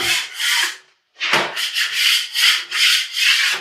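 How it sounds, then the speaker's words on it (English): A spatula scrapes close up across Toupret Easy Fill filler on a wall: one rasping stroke, a short pause, then five or six quick, even strokes in a rhythmic back-and-forth. "I've got a spatula here, I'm just going to run over, make sure I've got no high bits"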